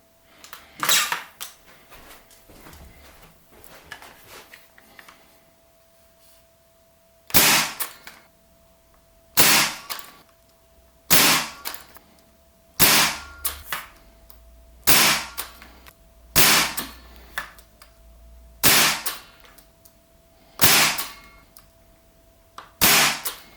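A Dart Zone Pro blaster fires bamboo darts, a series of sharp, loud, close pops spaced a second or two apart, about a dozen shots with quiet handling noises between them.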